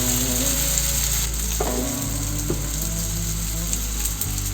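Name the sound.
cheese spring rolls (nems) frying in a pan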